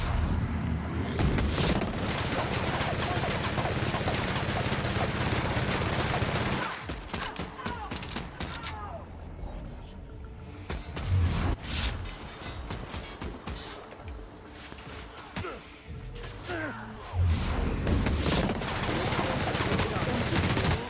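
Dense video game gunfire from shooting enemies in The Outer Worlds, with rapid bursts and heavy blasts crowding most of the stretch, loud and continuous, while a voice talks over it at times.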